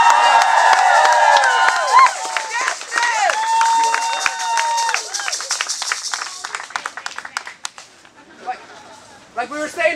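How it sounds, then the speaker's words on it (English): Crowd at a street candlelight vigil for Trayvon Martin clapping and cheering loudly, with high shouts and whoops over dense applause that fades into scattered claps and voices. "So give yourselves a round of applause."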